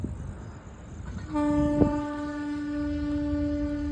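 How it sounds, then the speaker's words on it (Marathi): A passing freight train sounds a long, loud horn over the rumble and rattle of wagons rolling along the track nearby. "पुन्हा एकदा मालगाडी आली बघा क्रॉस केली एकमेकांना"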